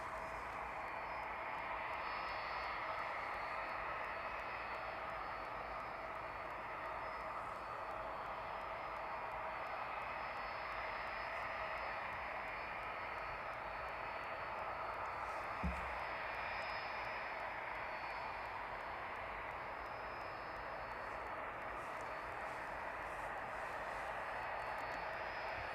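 Boeing 757 jet at East Midlands Airport in the evening, a steady, loud engine roar with a high whine holding constant throughout, one brief low thump midway, no voices.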